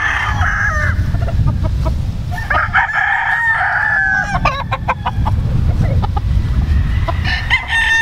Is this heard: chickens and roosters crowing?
yes